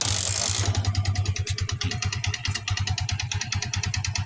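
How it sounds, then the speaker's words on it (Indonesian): A motorcycle engine idles close by with a rapid, regular, lumpy thumping rhythm after a brief burst of noise at the start. "Ini saya kasih contoh, ini motor terhidupkan."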